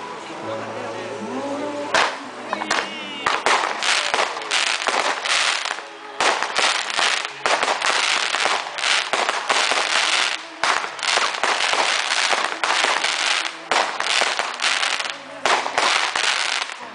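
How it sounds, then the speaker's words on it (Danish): A consumer firework trompette with seven effects bursts into a silver bouquet with crackling, giving a long, dense run of sharp pops and crackles outdoors. Tonal whistles rise at the start, and a voice speaks beneath the bangs. "En effektfuld trompette med 7 effekter, som eksploderer i sølvbuket med crackling."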